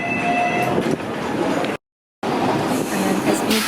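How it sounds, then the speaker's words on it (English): Trams rumbling past on the street in Wan Chai, Hong Kong, a steady close rail roar with wheel noise, broken by a brief silent gap midway before the passing rumble resumes. "we've got the trams behind"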